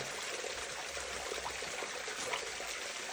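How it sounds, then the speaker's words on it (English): Water streams and trickles steadily from a burst water main, an old iron pipe, a constant close hiss of flowing liquid without pauses or voices. "I think we found where the water's coming out."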